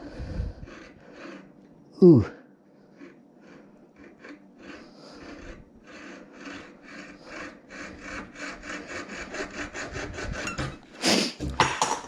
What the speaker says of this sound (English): I'm gonna take my little saw and make a little more score through here